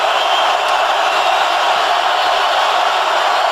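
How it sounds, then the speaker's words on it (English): Stadium crowd at a Seattle Seahawks home game against the Miami Dolphins: a constant loud roar of many voices filling the space, steady and unbroken throughout. "Ryan Tannehill dealing with the crowd noise here in Seattle."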